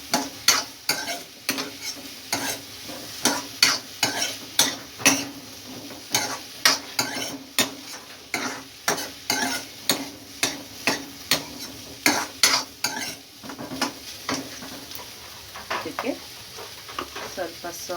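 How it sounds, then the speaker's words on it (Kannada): Sweet corn fries in butter in a pan under a soft, continuous sizzle, with a spoon repeatedly scraping and stirring in a steady rhythm, close up, before the stirring slows near the end. "ಚೆನ್ನಾಗಿ ಬಟರಲ್ಲೇ ಫ್ರೈ ಆಗಲಿ."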